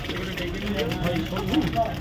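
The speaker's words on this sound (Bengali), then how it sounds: "বাইক এসেছিল" A motorbike engine idles with a steady, rattling hum at a Kolkata street food stall, while people talk over it close by.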